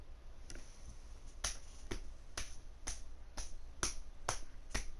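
Sharp, crisp claps repeating at a steady pace, about ten in a row, each a short bright snap over a low background hum, in Grand Theft Auto V.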